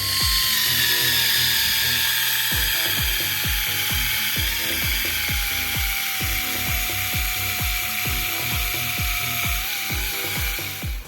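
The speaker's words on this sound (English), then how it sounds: "I've put the fine little brush on there, and it's just absolutely made a mincemeat of it." A power tool whines loudly and steadily while a fine wire brush scrubs and rattles against rusty metal on a Toyota Land Cruiser FJ40 in rapid repeated strokes.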